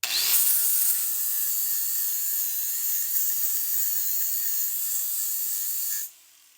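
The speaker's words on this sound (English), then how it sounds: "Let's see how well it cleans up these welds" A flap disc on an angle grinder grinding down a weld bead, a steady loud bright abrasive whine held for about six seconds before cutting off abruptly, no talking.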